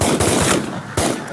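Shotguns blast at snow geese during a spring hunt, two or three loud close reports in rapid succession, sharp and booming.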